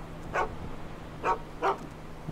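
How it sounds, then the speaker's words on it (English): A dog in a GTA roleplay game barks three times in short, spaced yips and woofs over a low steady hum, fairly close and moderately loud. "Bark, Frank"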